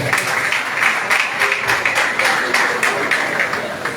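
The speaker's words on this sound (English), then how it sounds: "Clap for yourself." An audience at a postgraduate grant ceremony claps steadily, with dense applause and rhythmic surges throughout, fairly loud and close, with no speech over it.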